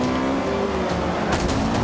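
A race car on race tires in the Forza Motorsport racing game, its engine droning steadily and loudly with a rising pitch, plus a brief burst of tire noise near the end.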